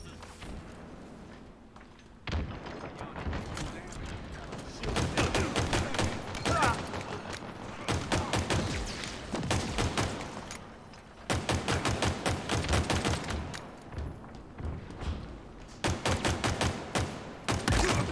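Pistol fire in Halo Infinite, a multiplayer match: quick volleys of sharp, loud shots come in rapid bursts with short pauses between them, close by and dominating the mix.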